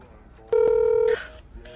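Telephone tone from a phone call attempt: one steady electronic beep lasting about half a second, loud and clear against a quiet background, followed by faint voices.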